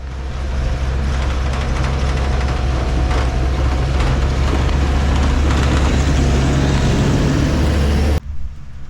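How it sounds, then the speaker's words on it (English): Volkswagen ALH turbo diesel engine from an early-2000s Jetta, fitted in a homemade tank, running loud with a deep, steady rumble and rising roar before cutting off sharply near the end. "ALH turbo diesel made by Volkswagen."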